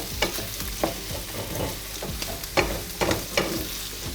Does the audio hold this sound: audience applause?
no